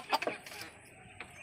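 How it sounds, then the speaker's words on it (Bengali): Chickens cluck a few times in quick succession near the start, then call faintly once more, fairly quiet over a low background hush. "ওদিকে মুরগিগুলো দেখো ডাকছে শুধু"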